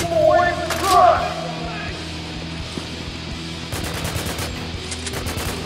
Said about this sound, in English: A little cover fire goes a long way.